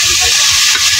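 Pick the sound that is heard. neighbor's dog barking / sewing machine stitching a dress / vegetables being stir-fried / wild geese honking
vegetables being stir-fried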